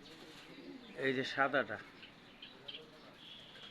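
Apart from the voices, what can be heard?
Australian dove cooing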